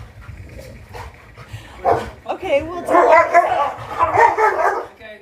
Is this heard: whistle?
no